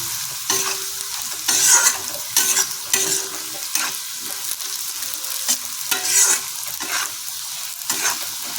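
Ground spices (salt, turmeric, cumin powder, coriander powder and a little sugar) are stirred in a hot frying pan for ghugni. Close, sizzling frying comes in repeated stirring bursts, with no talk.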